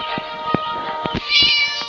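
A cat in the Scary Teacher video game meows several times in quick succession, short clear cries over a steady game background, with a longer drawn-out meow near the end.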